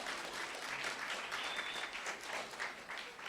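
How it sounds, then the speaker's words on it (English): A dense, continuous wash of audience clapping fills a conference hall at a county Women's Hall of Fame event, steady and fairly distant throughout with no voices heard. "And clap if you think that's correct."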